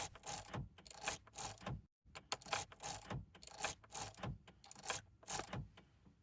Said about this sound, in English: Then you insert and remove the key 6 times.